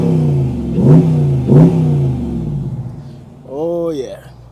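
A Dodge Challenger R/T Shaker V8 revs in short blips, two quick loud throttle stabs close together, a pause, then a third rising and falling rev over a low idling rumble.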